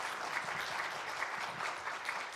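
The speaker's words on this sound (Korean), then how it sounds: "우리 한번 인사하고 들어갈 때 큰 박수 보내주세요." Steady applause from a church congregation during a Sunday joint worship service, a dense even clapping that fills the whole stretch without any voices over it.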